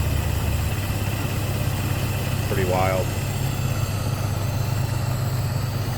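A 1924 Ford Model T engine idles steadily with a constant low rumble throughout, while a brief voice speaks over it partway through.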